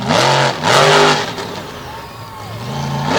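A race vehicle's engine revs hard on the front stretch during a warm-up run at Susquehanna, Pennsylvania, rising and falling in loud pulls, with an announcer talking over it.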